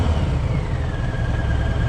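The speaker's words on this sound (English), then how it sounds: "Yeah, the mighty roar of a stock Harley, eh?" Deep, steady engine roar of a stock Harley-Davidson motorcycle while riding, a continuous low rumble with faint wind noise, close and loud, no talk.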